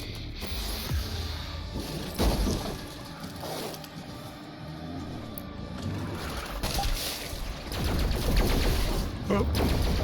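Shotgun blasts and heavy combat noise in Doom Eternal, with repeated loud bursts and crashes over a dense, rumbling bed. Someone speaks over the action.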